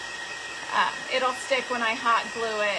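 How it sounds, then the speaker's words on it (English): A hair dryer runs with a steady whirring hiss for the whole stretch, someone talking over it in a craft setting. "I need to plug in my dryer"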